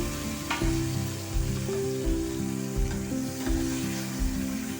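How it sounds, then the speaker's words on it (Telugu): Onions sizzle steadily in a hot pan on a stovetop, with occasional soft scrapes and knocks as they are stirred, close and continuous without any talk. "ఉల్లిపాయలు మొత్తం బ్రౌనీగా అయినప్పుడు అలా ఇలా తిప్పుకుంటూ ఉండాలి"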